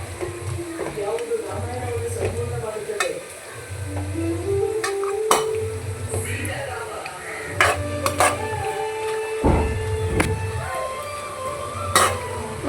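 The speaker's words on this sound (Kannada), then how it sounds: "2 ಟೇಬಲ್ ಸ್ಪೂನ್ ನಾನು ಟೊಮೆಟೊ ಸಾಸ್ ಹಾಕ್ಕೊಳ್ತೀನಿ. ಹಾಕ್ಕೊಂಡು ಮಿಕ್ಸ್ ಮಾಡ್ಕೊಳ್ತೀನಿ." A spoon stirs tomato sauce through cabbage manchurian in a hot pan, with repeated scraping strokes and clinks against the metal over a steady sizzle, some louder knocks near the end.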